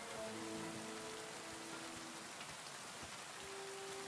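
Steady rain falls in the medieval world of the video game Kingdom Come: Deliverance II, a dense, even hiss of drops at moderate level throughout, with faint tonal game sounds early on and no talking.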